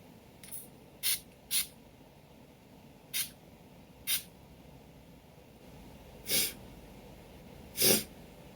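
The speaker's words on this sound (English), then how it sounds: "Well, I will spray some again." Perfume sprayed from a pump bottle in seven short, separate bursts at irregular intervals, the last two longer and louder, close by with no talk.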